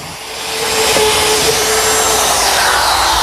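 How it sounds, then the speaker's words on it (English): A router running with a 1/4 inch bit, its collar guided by a jig, bores shelf-pin holes in teak. It gives a loud, steady, close-up high-pitched roar that lasts throughout. "a collar in my router fits into the jig, and a 1/4 inch bit does the work"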